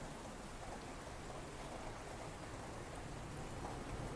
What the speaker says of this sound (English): I can hear the water flowing already. That's raining.